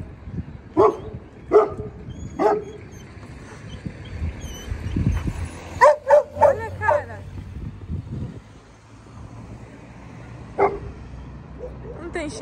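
Dogs bark in short, sharp bursts, a few spaced single barks and then a quick cluster, fairly close, with a horse nearby and some background noise between barks.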